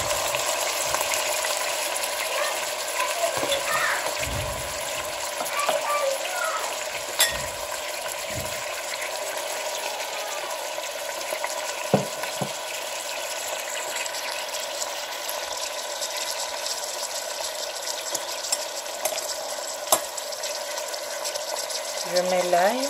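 Chopped onion frying in a pan for a salted fish and aubergine dish, giving a steady, hissing sizzle that runs throughout with a few soft knocks and stirring sounds.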